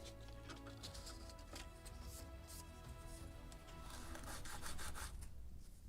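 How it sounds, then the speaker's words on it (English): A sanding block rubs against a small wooden rudder part for a Model Shipways kit of the 1776 gunboat Philadelphia, making quiet, steady back-and-forth scraping strokes. "Actually, I can cut it and sand it like this."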